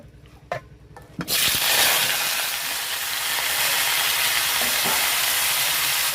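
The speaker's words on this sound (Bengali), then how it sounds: "তেলটা গরম হতেই দেব কেটে রাখা সবজিগুলো" A sudden loud sizzle as chopped vegetables hit hot oil in a wok, a few clinks before it, then steady hissing frying throughout.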